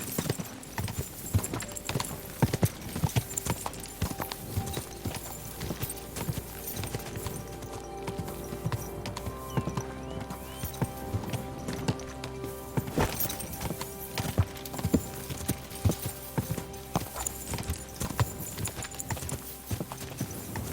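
A horse's hooves clip-clop steadily and briskly in the medieval video game Kingdom Come: Deliverance 2, a dense, continuous trotting patter with game ambience underneath throughout.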